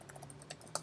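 Quick, light clicking of computer keyboard keys, several soft close-up taps with a couple of louder strokes at the end.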